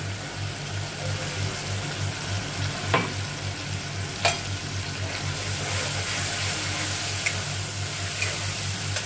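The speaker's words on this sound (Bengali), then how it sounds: "চিংড়ি মাছটা সেদ্ধ হোক মশলাগুলোর সঙ্গে।" Prawns simmering in a pan with spices and a splash of water, giving a steady low bubbling sizzle with an electrical hum beneath and a few faint clinks, no voices.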